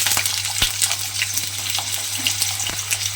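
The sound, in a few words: potato strips frying in hot oil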